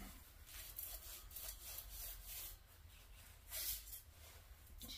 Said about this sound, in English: and sand away